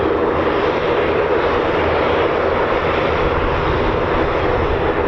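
Steady, loud roar of an aircraft with a Pratt & Whitney free turbine engine departing at RAF Waddington, a continuous broadband turbine drone that holds constant without breaks or voices.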